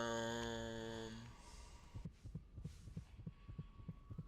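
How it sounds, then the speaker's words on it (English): In the Dishonored video game, a rhythmic heartbeat pulses in regular double thumps beneath a low hum, following a fading tonal chord, with no talking. "Why do I keep hearing a heartbeat?"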